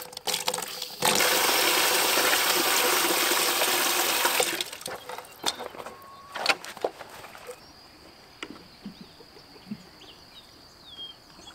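Water gushes loudly from a garden hose with a busted joint on a pasture for meat birds, a steady spraying rush for several seconds, then quieter outdoor ambience with faint bird calls.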